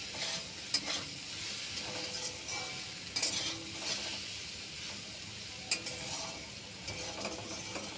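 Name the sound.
stirring kochur loti with salt and turmeric in a pan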